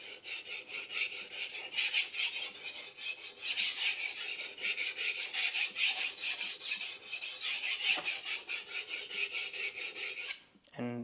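Kitchen knife, a Ninox tsujihiki, sharpened on a whetstone using the full length of the stone: steady rhythmic rasping strokes, close and continuous, with a brief pause near the end.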